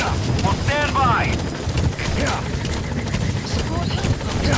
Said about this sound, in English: Support helicopter